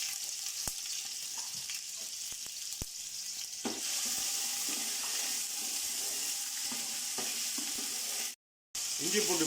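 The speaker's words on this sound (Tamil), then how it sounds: "இஞ்சி பூண்டு பேஸ்ட்டு இது போல் நல்லா ஓரளவு பச்சை வாடை போகிற வரைக்கும் வதக்கிக்கிங்க" Ginger garlic paste sautéing in a pan for chicken mandhi, a steady close sizzle and fry with occasional stirring clicks, continuing throughout with a brief drop-out near the end.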